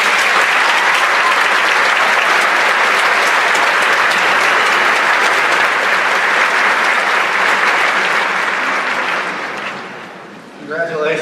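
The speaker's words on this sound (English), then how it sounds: "let's give them a round of applause" Loud, dense audience applause at a 2015 Ray-Pec high school graduation commencement, sustained for about nine seconds before thinning out near the end, with a few voices starting to come through as it fades.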